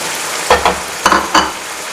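Tomatoes added to beef stew meat frying in a pot for a Pakistani stew, loud close sizzling with three or four stirring scrapes and bursts over a steady hiss.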